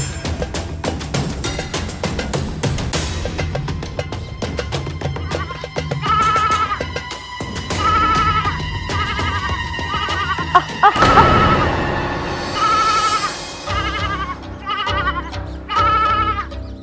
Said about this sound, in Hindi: भेड़े चरा रही हूँ।